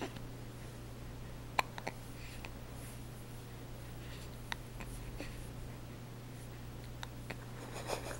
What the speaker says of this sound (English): And you got the hiccups.